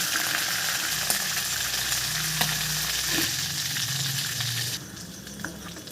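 Mixed fish fry in hot oil with a constant close crackling sizzle, dense and even throughout, with occasional soft knocks from a utensil and a slight drop in level toward the end.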